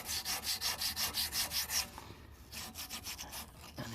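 Rhythmic scrubbing on the gasket seating surface of a Toyota MR2 MK2 engine, about a dozen quick even strokes, then softer irregular rubbing, close and alone with no talk.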